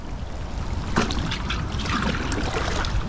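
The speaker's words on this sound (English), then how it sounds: "Let's get some water in the bucket." Water trickling and splashing into a bait bucket outdoors by the sea, a steady wet dribble running continuously at close range with no talk over it.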